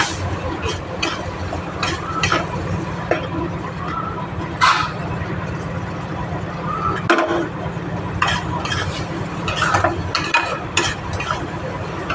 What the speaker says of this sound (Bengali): এবারে এটা আমি ভালো করে একটু কষিয়ে নেব।